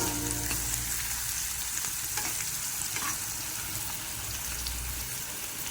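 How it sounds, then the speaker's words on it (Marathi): Constant close sizzling of onions frying in oil, with occasional stirring clinks and a low background hum. "लाल होईपर्यंत चांगला कांदा पण भाजून घ्यायचा"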